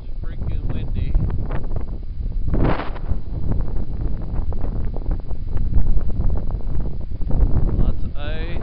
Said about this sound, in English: It is freaking windy.